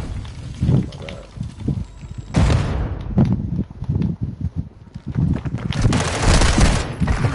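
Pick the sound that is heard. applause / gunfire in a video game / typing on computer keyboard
gunfire in a video game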